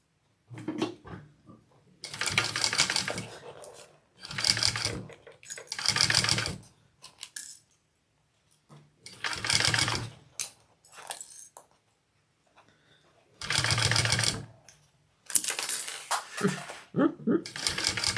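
Sewing machine stitching a bag seam at a quarter-inch allowance, in several short bursts of whirring separated by pauses, with a person talking quietly between runs.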